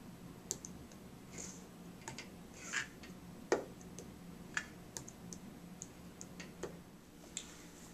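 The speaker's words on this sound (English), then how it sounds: "The participant will be typing the word candy." A word typed on a standard computer keyboard, the wrist resting on a hand rest: a sparse run of soft, quiet key clicks at uneven intervals, with no talk.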